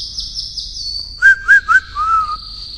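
A person whistles at night, a steady high tone giving way to three short rising notes and then a longer falling one, clear and close with no talk.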